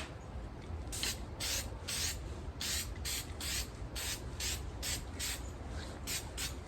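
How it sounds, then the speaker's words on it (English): Short hissing bursts of cleaner sprayed onto the yellow side of a 1999 Kawasaki 600 motorcycle air filter, about a dozen quick rhythmic puffs, close and fairly loud over a low background rumble. "I'm going to spray the yellow side"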